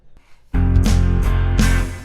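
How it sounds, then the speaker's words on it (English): Guitar and drums kick in together after a brief quiet start: loud, sustained low chords with sharp cymbal hits punctuating the rhythm. "My guitar and the drums are aligning with each other while Spencer is kind of holding the note an"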